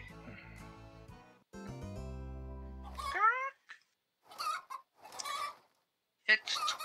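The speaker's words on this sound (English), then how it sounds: "Be the first to catch the chickens and put them in your cage." Cartoonish chicken clucks and squawks from the Party Panic video game, with bursts of game sound effects and jingles, loud and close, in short separate bursts with silent gaps between them.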